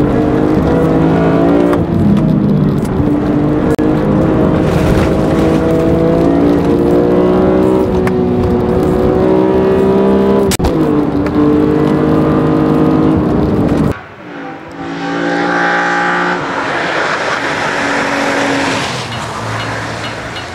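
A BMW M3 CSL with an SMG paddle-shift gearbox revs hard through rising engine pitches, broken by quick gear shifts. It sounds loud and close and carries on for about twenty seconds, with a sudden cut near the end before it builds again.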